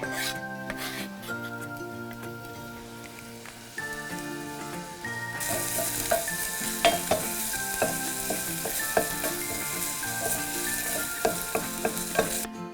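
Shallots and garlic frying in oil in a hot pan, a steady close sizzle with repeated scraping and stirring taps that grow louder and brighter partway through, with no talk.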